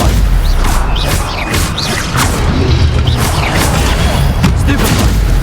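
Spell blasts from Hogwarts Legacy go off in a dense, continuous barrage of booms and crashes with whooshing sweeps, loud throughout, while a voice calls out briefly over the combat din.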